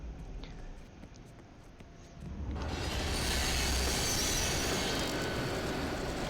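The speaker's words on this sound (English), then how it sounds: "I think that's our train. I think we gotta go get that train." A train arrives in the horror video game Here They Lie, starting quiet with faint clicks, then swelling into a loud, sustained rumble and rush of rail noise with a metallic screech.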